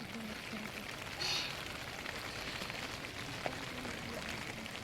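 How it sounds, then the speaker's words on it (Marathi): Fine, light rain falls steadily outdoors on a hilltop overlooking a Konkan village and river, a soft continuous hiss with a brief swell and one faint tap, with low murmuring voices in the background. "पाऊस पण पडतो बारीक बारीक"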